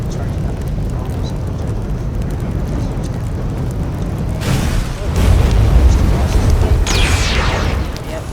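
Bomb explosions go off in the video game Grand Piece Online during a double boss wave in a dungeon: a run of dull background clatter gives way to a loud, deep, rumbling boom burst that lasts several seconds.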